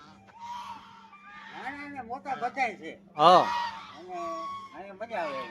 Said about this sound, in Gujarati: જોઈ લો નાના નાના બતક